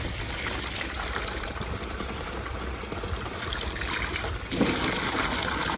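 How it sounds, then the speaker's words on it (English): Water from a hose splashes and pours steadily over a ram pump being cleaned on a homestead, a continuous watery wash that swells louder near the end. "I'm gonna rinse this off."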